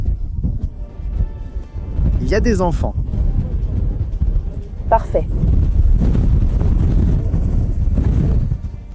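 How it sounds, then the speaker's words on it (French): Strong wind with snow on the way back from ice caves roars and buffets the microphone in a loud, continuous low rumble, while people speak over it. "La vitesse du vent augmente considérablement."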